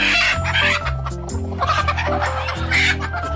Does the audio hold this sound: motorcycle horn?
no